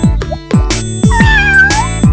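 A kitten meows repeatedly, about four or five short cries in an uneven rhythm, close and fairly loud, with a brighter, longer mewing cry in the middle.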